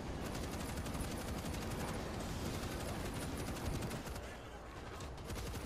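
Sustained heavy .50 cal machine gun turret fire in the World War Z video game, a dense continuous roar of rapid shots running loud and unbroken for several seconds, dipping slightly near the end.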